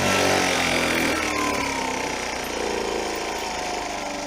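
A 1982 Honda C70 Passport motorcycle engine climbing a hill, a loud, steady, buzzing drone that eases slightly in intensity as the bike continues to climb.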